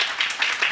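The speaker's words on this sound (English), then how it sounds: "can we get a round of applause for all the speakers and the panelists today?" A short burst of applause at a security workshop, with clapping that swells and fades in quick waves as a crowd claps together.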